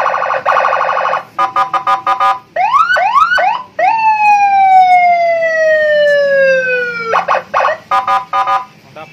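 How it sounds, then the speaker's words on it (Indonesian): A custom Shenken police escort siren fitted to a Honda Beat motorcycle blares loud and close: rapid staccato bursts, then rising whoops, a long falling wail, and quick chirping bursts again, with no voices. "pemasangan sirine patwal custom Shenken di Honda Beat ya."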